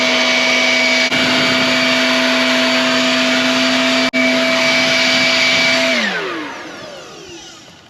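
A cheap small electric blower runs steady and loud outdoors, pushing air onto a burning tree stump with a constant whine, then spins down and fades over the final two seconds.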